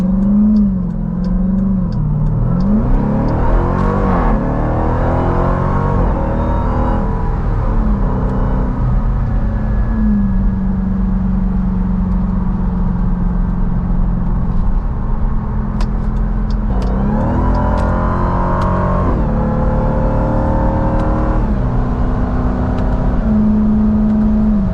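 A 2023 Dodge Durango Hellcat SUV with a 710 hp V8 accelerates on a highway, heard from inside as a loud, continuous engine drone that rises and falls with shifts, with no talking.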